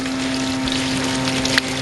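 Water sprayed from a hose onto a roof skylight to simulate light rain, a steady hissing spray with a constant pump-like hum, close and fairly loud.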